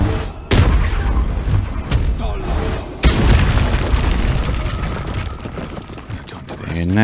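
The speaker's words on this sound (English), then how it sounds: "Very nice, the Eldritch Blast spam." Eldritch Blast spell bursts in the video game Baldur's Gate 3, loud booming impacts with sharp onsets near the start and midway, followed by sustained crackling energy and rumble, with talk partly over it.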